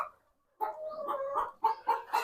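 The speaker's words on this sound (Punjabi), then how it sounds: "ਇਹ ਮੁਰਗੀਆਂ ਨੇ ਔਰ ਇੱਧਰ ਵੀ ਮੁਰਗੀਆਂ ਨੇ" Hens clucking close by on a poultry farm in short, irregular bursts after a brief quiet moment at the start.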